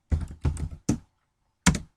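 A few separate keystrokes on a computer keyboard while entering SPSS syntax, with three quick taps, a short pause, then one more, crisp and close with no talking.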